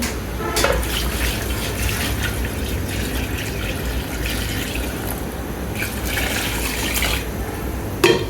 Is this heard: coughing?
no